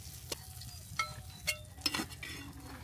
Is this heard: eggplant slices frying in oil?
yes